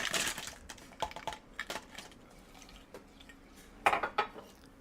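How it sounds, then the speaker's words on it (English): Fresh ice cubes dropped into a milk tea shaker cup for an electric bubble tea machine, heard as a few quick clinking, rattling bursts at the start and again near the end, with quieter knocks between. "we're going to add some fresh ice"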